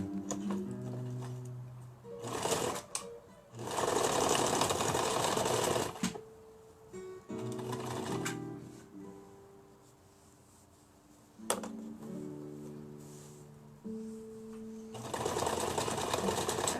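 A sewing machine runs in several loud, fast-stitching bursts, working straight and zigzag stitches on a costume, with quieter gaps, clicks and soft handling sounds between runs.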